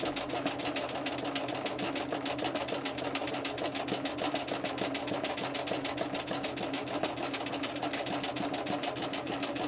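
Sewing machine doing free-motion embroidery stitching, a steady fast motor whir with dense rapid needle strikes running continuously at close range throughout.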